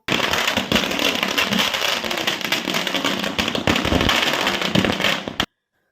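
Firecrackers set off by Congress party workers at a victory celebration at a town circle in Yelburga, a loud, dense crackling barrage of bursts close by that runs continuously for over five seconds and then stops abruptly.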